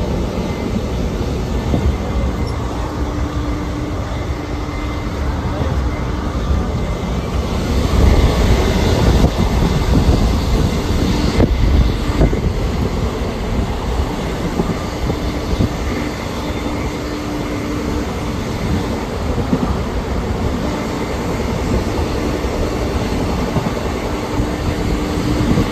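A passenger train to Surat rolls along the rails with a loud, steady rumble and a broad roar, with faint rhythmic clatter underneath and no voices throughout.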